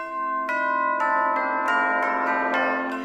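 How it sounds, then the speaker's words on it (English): Castle bells ringing for a royal wedding: rich, sustained tolling with fresh strikes about every half second layered over a lingering hum, loud and alone with no voices. "The castle bells rang out, for the king was getting married to a new wife."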